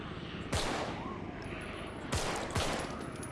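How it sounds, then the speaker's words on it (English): Three sharp gunshots ring out in the zombie video game Contagion, one alone and then two close together, over steady background noise. "I shot the gun."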